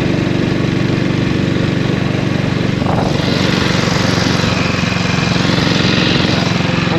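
A 1932 Norton 16H vintage pre-war motorcycle rides in third gear, its engine making a steady, loud, close-up drone with continuous wind rush throughout.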